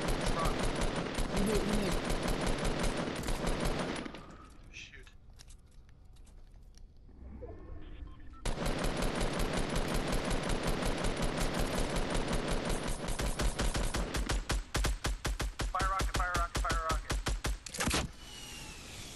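Rapid automatic gunfire in a Fortnite Battle Royale match, dense bursts of shots that drop out briefly midway and then resume in fast repeated volleys, loud and close, with players talking briefly.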